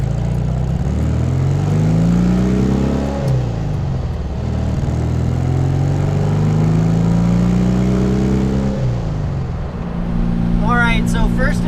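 A Porsche 356C engine pulls hard on a shakedown drive, its loud, close drone climbing steadily in pitch through two long gear runs, each ending in a brief drop before it climbs again.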